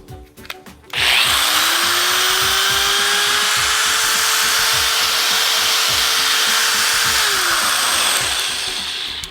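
Electric drill powered by a Jackery Explorer 240 power station spins up with a loud, steady whine that holds for several seconds after a brief clatter, then cuts out near the end.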